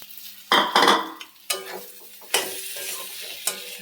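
Fried cauliflower is tipped into spiced oil in a pan and stirred, giving bursts of sizzling along with spoon scrapes and clinks against the pan that come in several separate bouts.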